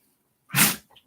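A single loud, abrupt sneeze bursts out close by, followed by a faint sniff or breath.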